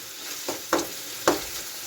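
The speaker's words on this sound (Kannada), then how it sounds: "ಬಟ್ ನಾನು ಸಣ್ಣಗೆ ಹೆಚ್ಚಿಕೊಂಡು ಫ್ರೈ ಮಾಡಿರ್ತೇನೆ." Finely chopped tomatoes fry with a soft, steady sizzle in a quiet kitchen, broken by two or three sharp spatula scrapes.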